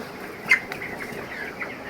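Faint clucking from chickens with occasional soft chirps from 21-day-old chicks, a few brief calls over a low background hum.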